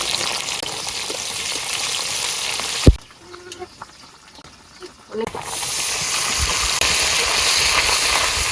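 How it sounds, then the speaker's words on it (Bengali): Onions go into hot oil on a clay stove while country chicken curry cooks. A strong hiss breaks for a brief quieter lull marked by clanks, then the sizzle surges back loud and steady. "তেল গরম হয়ে গেছে, পেঁয়াজ দিয়ে দিন।"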